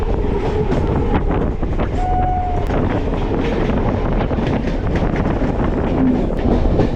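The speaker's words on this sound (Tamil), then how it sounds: "அடுத்த ட்ரெயின் இப்போ உள்ளே வந்தது" A suburban train pulls into Park Town railway station in Chennai, giving a loud, continuous rumble with wind buffeting the microphone and brief high wheel squeals over the roar.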